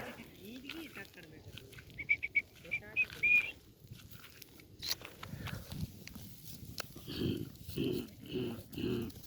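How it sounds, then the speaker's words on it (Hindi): A goat bleats several times in quick succession near the end, close by. Earlier there are whistles, rustling and other outdoor noises. "ये आ मारी बकरी आ"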